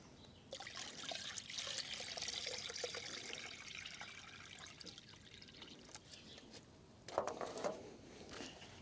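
Water runs and trickles steadily into a newly dug garden pond, a continuous splashing pour that carries on for several seconds and surges louder near the end.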